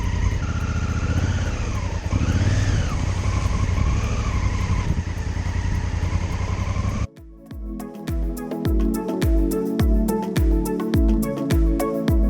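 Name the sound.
Honda Africa Twin motorcycle wheel spin on deep rocks while greenlaning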